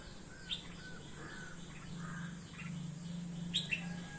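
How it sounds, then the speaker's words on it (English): A male red-whiskered bulbul calls to his mate sitting in the nest, giving a few faint, scattered chirps and short whistled notes over a quiet outdoor background with a low hum. "The male bird is chatting with his pair sitting inside the nest."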